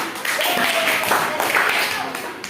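Short burst of applause from students in a classroom, scattered clapping that lasts a couple of seconds while a voice carries on over it.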